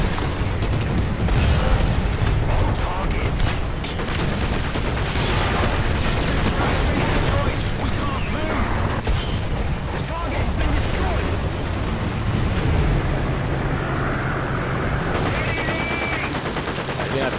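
Heavy booming KV-1 tank cannon shots and rapid gunfire in War Thunder, dense and loud throughout, with battle noise layered over it.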